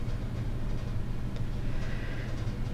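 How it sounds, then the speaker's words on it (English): A home furnace runs with a steady low rumbling drone that stays constant throughout and has no breaks or talking. "If you can hear that noise, that's my furnace."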